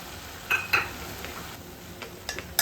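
Capsicum, drumstick pods and spinach are stirred in a pan, giving a soft background sizzle broken by several quick metallic scrapes and clinks of the spoon against the pan.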